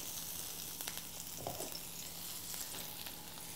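Chopped mushroom stems and rosemary sizzle steadily in hot oil, a soft continuous frying hiss with a brief stirring scrape midway, no talking.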